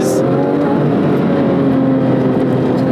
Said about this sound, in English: Makes it very easy to actually rev match and heel toe downshift with ease.